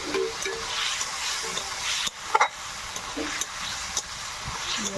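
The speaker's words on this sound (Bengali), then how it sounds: "বেটে রাখা মশলাটা দিয়ে দেবো, দিয়ে ভালো করে কষে নেব।" Ground spice paste fries and is stirred in a pan for a fish and papaya curry, giving a steady close sizzle with a few scraping clicks and a brief louder knock midway.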